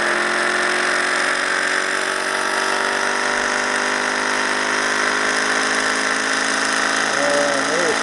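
Small ORBO-style electric motor spinning up at 19 volts, a steady loud whine with dense tonal hum that holds throughout, someone talking briefly near the end.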